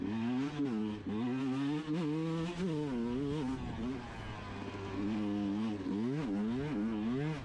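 A big dirt bike races through a whoops section at the Rhino Rally 2023 expert row, its engine close and loud, revving up and dropping back in quick repeated swells as it hits each bump.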